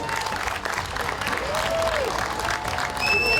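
Crowd applause for a barbecue contest winner at an outdoor summer village event, a short burst of moderately loud clapping with a few whistles and faint voices mixed in.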